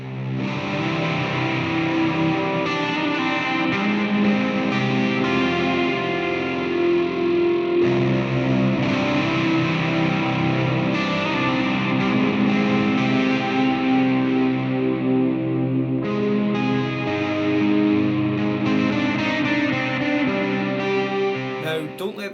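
Guitar played through a Walrus Audio SLÖ reverb pedal, washing into dense ambient modulated reverb with sustained dreamy pads that swell and shift, loud and continuous without pause.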